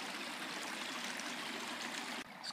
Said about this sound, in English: They piped this stream off and I guess send it to the Ohio River.